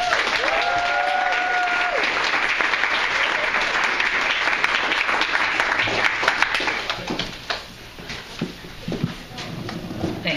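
An audience applauds to welcome author and professional puppeteer Mary Robinette Kowal at a live reading and performance night, a dense, steady clapping that fills the room before thinning out toward the end.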